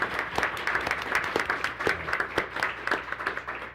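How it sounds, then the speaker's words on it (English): A crowd claps steadily, a dense patter of many hands at moderate distance, continuing without pause for the whole stretch. "let's give them a round of applause for the demonstration."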